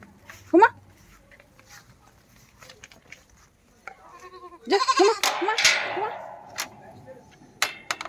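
Goats bleating while grazing in a rural village yard alongside cattle, a few short nasal calls near the start and a louder cluster of overlapping bleats midway, with faint ambient noise and occasional sharp knocks.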